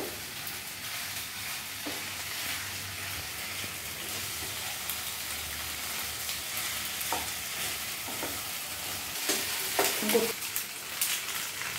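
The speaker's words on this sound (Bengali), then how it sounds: "পাস্তাটা ভালোভাবে মিশিয়ে নিতে হবে সমস্ত মশলার সাথে।" Red sauce pasta is stirred with spices in a hot pan, a soft continuous sizzle broken by scraping and clinking as the utensil works through the food, close and steady.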